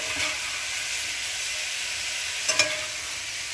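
Yellow squash and zucchini cooking in a skillet, a steady hissing sizzle with a couple of brief stirring clicks, close and without talk.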